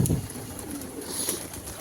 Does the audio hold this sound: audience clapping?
no